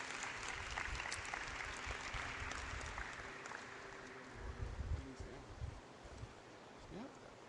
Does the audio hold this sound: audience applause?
yes